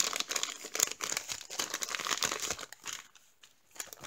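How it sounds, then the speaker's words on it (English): Paper is folded down and creased on a handmade ocean-themed loaded envelope, giving close, busy crinkling and rustling that fades near the end, with no talk. "Okay, you just fold this part down."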